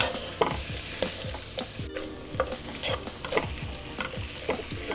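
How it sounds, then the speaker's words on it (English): Beet greens sauté in a pan, a steady close sizzle with repeated scraping stirs of a utensil at a regular pace, no voices. "Saute your green leaves for another 2 minutes."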